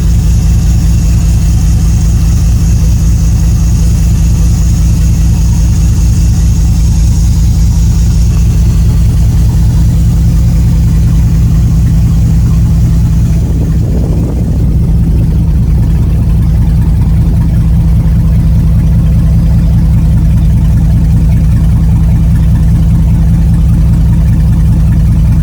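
A 1999 GMC Sierra 2500HD runs with no exhaust, its catalytic converters cut out, giving a loud, steady, close-up rumble with a brief surge in revs partway through.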